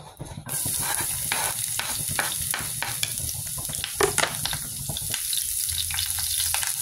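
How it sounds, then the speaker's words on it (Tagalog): Garlic frying in hot oil in a wok, stirred continuously: a steady close sizzle carries throughout, with repeated scraping clicks of the utensil against the pan, alone with no talk. "Kailangan haluin siya ng haluin para hindi masunog."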